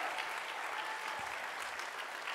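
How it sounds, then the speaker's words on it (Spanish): An evangelical church congregation claps loudly and continuously, a dense even wash of hands with no single voice standing out. "Pueden aplaudirle fuerte a Jesús con libertad."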